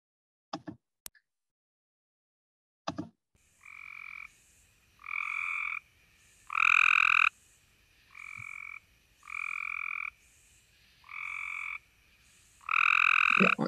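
Cope's gray treefrog calling in a series of short, harsh trilled bursts, each about a second long with brief gaps, loud and close to the microphone, preceded by a few faint clicks.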